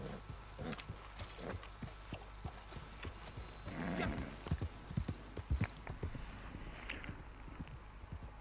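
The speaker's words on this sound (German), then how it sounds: "Ja, das Pferd muss ich füttern unbedingt." Steady video game horse hoof clip-clop on a hard surface, a brisk rhythmic trot of many close, sharp knocks with a brief snort midway, fairly quiet throughout.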